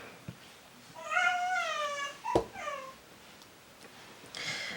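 Indoors, a house cat meows in a clear, drawn-out call followed by a shorter second meow and a faint third one, fairly soft and slightly distant, with no one talking.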